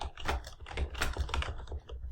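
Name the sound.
typing on a computer keyboard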